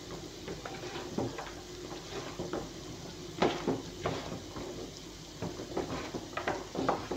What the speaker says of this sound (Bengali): বাকি ফ্রেঞ্চ ফ্রাইটা আমি রেখে দিয়েছি, এটা ভাজা হয়ে গেলে ওটাও ভেজে নেব।